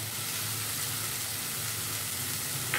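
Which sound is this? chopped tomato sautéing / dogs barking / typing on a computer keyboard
chopped tomato sautéing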